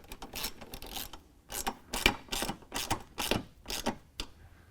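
Rapid ratchet clicking in repeated strokes while exhaust bolts are tightened on a BMW E92 with a Dinan middle section, rhythmic bursts close to the mic, no voices.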